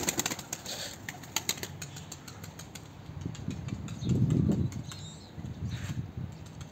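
Pigeons being flown flap their wings, with a burst of fluttering close by midway and quieter flapping and scattered clicks before and after, faint over an outdoor background hiss.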